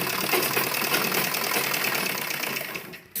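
A sewing machine runs continuously while stitching a seam on a baby dress, its fast, even mechanical whir close and alone, stopping abruptly near the end.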